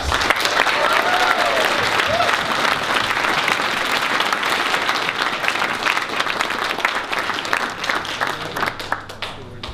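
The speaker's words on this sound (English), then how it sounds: "One more round of applause for PAX." Applause from an audience at PAX Australia after a game trivia challenge, a dense sustained wash of many hands clapping that thins slightly toward the end, with a faint voice briefly audible under it.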